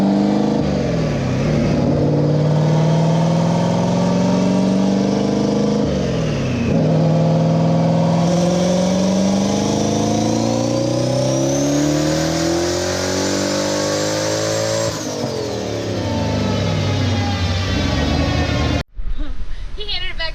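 A car on a dyno, running on E85 fuel, revs hard in long pulls, its engine pitch climbing through gears and dropping back, loud and close, before cutting off near the end; a voice talks under the engine.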